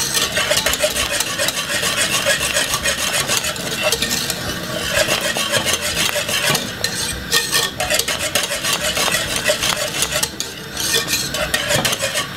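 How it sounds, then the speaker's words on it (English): Whisk stirring cornmeal and oats porridge in a pot, a steady, continuous scraping and sloshing close up, loud and unbroken with no talking. "just continue whisk it like this. And you don't want it to get lumpy, so you just keep whisking it"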